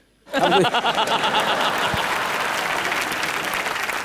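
Studio audience at a live TV comedy show bursts into loud, sustained applause that starts abruptly and holds steady, with a few scattered chuckles mixed in and no talking.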